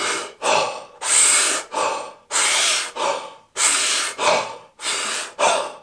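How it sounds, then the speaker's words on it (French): Rapid, forceful Wim Hof method hyperventilation breathing: about ten deep, loud inhale-exhale cycles in a steady rhythm, heard close and alone. "Lors de la respiration de la méthode Wim Hof, on va hyperventiler."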